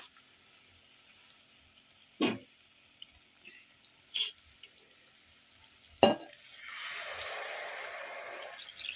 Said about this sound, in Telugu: అందుకోసం నేను వాటర్ అయితే పోస్తున్నాను ఇందులో